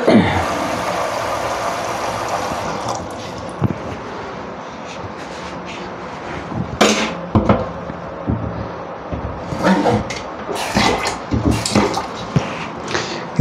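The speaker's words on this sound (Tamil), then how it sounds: "இதில் 1 லிட்டர் தண்ணி விடுறேன்." Water pours steadily from a one-litre cup into a cooking pot for prawn biryani, a close, continuous splashing rush for the first few seconds, followed by scattered clinks and knocks of kitchen utensils.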